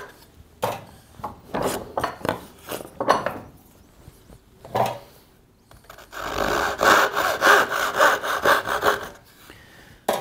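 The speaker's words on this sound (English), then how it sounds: "we're going to use the crosscut saw to cut off these two" Crosscut handsaw cutting off the end pins of a wooden dovetail joint, close rhythmic rasping strokes that start in bursts and then settle into a steady fast back-and-forth run.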